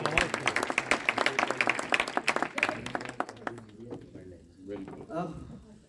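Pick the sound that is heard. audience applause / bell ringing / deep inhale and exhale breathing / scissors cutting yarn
audience applause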